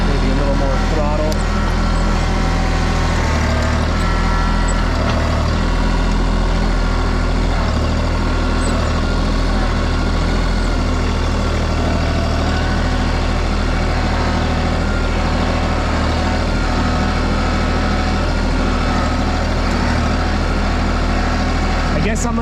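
A Mahindra tractor engine runs steadily in four-wheel drive low range with the differentials unlocked, a constant loud low drone and rumble filling the whole stretch, while a voice speaks over it.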